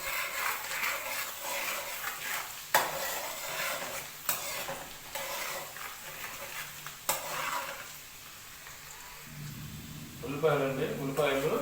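Onions frying for a chicken fry dish, with a steady sizzle in a pan and the scrape and clink of a utensil stirring. A voice talks over it throughout.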